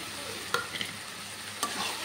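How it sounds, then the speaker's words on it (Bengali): Prawns fry with bottle gourd curry in a pan, giving a soft continuous sizzle, with a couple of sharp stirring clinks from a spoon against the pan. "এবার আমি এতে চিংড়ি মাছগুলো দিয়ে দেব।"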